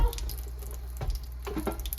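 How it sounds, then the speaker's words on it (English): Kitchen faucet running at low flow into a sink, a steady close trickle of water with soft splashing bursts, no talk over it. "What I'm going to do is turn the water really low."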